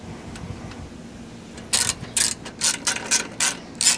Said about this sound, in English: Now we install these three bolts with little spacers.